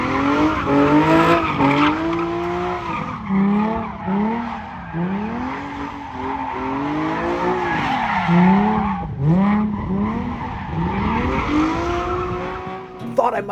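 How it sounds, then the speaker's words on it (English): A drift car sliding at a pre-Sturgis Rally 2023 event, its tires squealing in repeated wavering, rising and falling wails over a loud engine roar, steady and close for several seconds. "I didn't get a chance to drive a drift car, but I did get a chance to ride in one"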